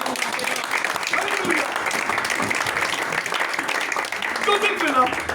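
A church congregation applauds in a sustained wash of clapping that fills the room, with voices calling out over it.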